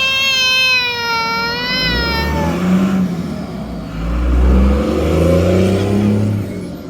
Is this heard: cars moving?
yes